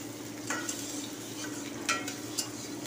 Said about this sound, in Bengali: আর এখন রসুন কুচি দিয়ে আমি বাগার দিব